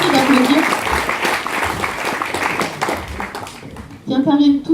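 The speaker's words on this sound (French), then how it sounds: "On les applaudit bien fort." An audience at a lecture claps, a dense burst of applause with a speaking voice heard over it at the start and again at the end.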